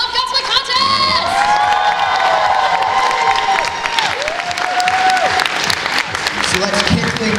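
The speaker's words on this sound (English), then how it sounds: "let's give a big round of applause for all of our contestants" A loud cosplay contest crowd applauds the contestants, with clapping mixed with cheering, whoops and high shouted voices, dense and sustained throughout at close range.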